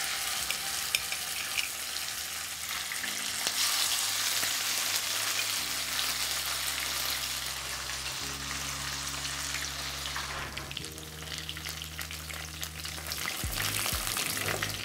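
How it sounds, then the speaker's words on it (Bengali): Pieces of bhetki fish fry in hot oil with a steady, close hiss and crackle, the sizzle swelling and easing as they are moved, under faint background music and no talk. "এবার একইভাবে আমি বাকি মাছগুলোকেও ভেজে নেব"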